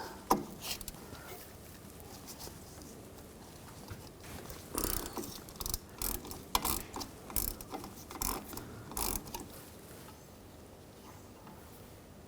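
Ratchet wrench fitted with a 10mm socket backing out two bolts on the rear of a 2003-2009 Subaru Forester's wheel cylinder, giving repeated bursts of close, crisp clicking pawl ratchet strokes with short pauses between them.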